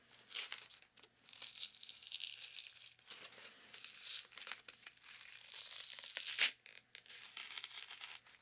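Paper from a pocket journal being torn and crinkled up close, soft rustling bursts in several stretches with a sharper rip near the end, quiet and intimate with no speech.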